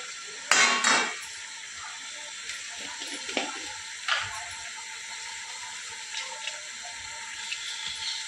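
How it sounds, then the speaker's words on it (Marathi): Val beans (birde) dropped into hot tempering in a pan, a sharp sputtering burst at the start, then quieter sizzling with occasional utensil clinks. "फोडणीला बिरडं घालते आहे"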